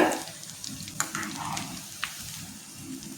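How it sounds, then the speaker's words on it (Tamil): Pattanam-style tea-shop pakoda frying in oil over a medium flame gives a steady, soft sizzle with small crackles and pops, fairly close and not loud. "இப்போ அடுப்பை வந்து மீடியம் ஃப்ளேமில் வச்சுட்டு பொறிச்சு எடுக்கணுங்க"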